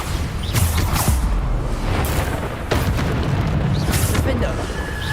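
Bombarda spell explosions in a Harry Potter video game, with loud booming blasts and bursts recurring about every second over a constant roar of combat, with a voice speaking over them.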